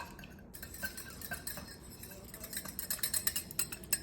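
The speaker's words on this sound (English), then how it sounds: "So now we're gonna get our whisk and mix it all up." Whisk beating egg wash in a bowl, a run of quick metallic clinks and scrapes against the bowl sides that grow louder and more rapid toward the end, with no talking.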